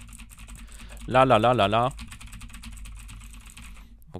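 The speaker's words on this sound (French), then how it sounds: "Je suis en train de taper au clavier." Rapid typing on a computer keyboard set just below a microphone, a quick run of light key clicks continuing throughout, briefly interrupted by a short spoken word.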